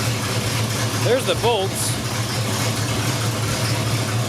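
A squarebody crew cab dually truck engine idles steadily nearby, a low constant rumble, while someone speaks briefly over it.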